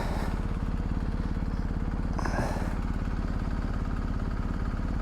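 A BMW motorcycle engine idles steadily at close range, a continuous low throbbing pulse that runs throughout, with a brief faint rustle partway through.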